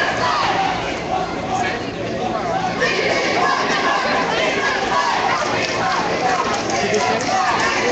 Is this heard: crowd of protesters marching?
yes